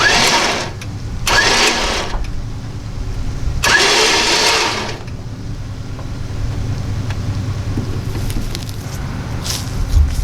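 A 1960 Dodge Power Wagon W300 truck engine runs at a steady mid-pitched idle-like rumble, with a few loud bursts of revving or exhaust rush, while the truck is inched forward toward loading ramps.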